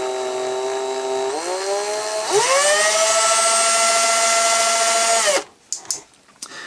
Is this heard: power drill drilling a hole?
yes